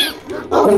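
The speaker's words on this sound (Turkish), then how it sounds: "Lan o köpek sesi nereden geliyor?" A dog barks in Grand Theft Auto V, one short close bark with a whimpering tail, heard alone for under a second.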